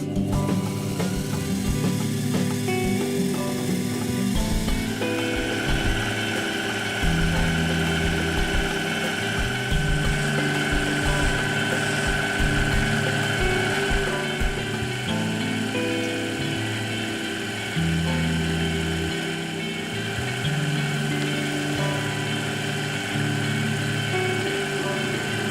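A lathe hand-turning and doming the ends of small brass screws for a clock using a T-rest, steady motor hum with shifting scraping tones throughout.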